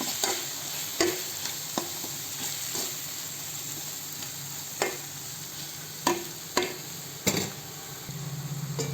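Garam masala, chilli powder and coriander powder frying in hot oil for a chicken gravy, a soft steady sizzle punctuated by sharp clicks and taps of a spoon stirring the pan, with no voices.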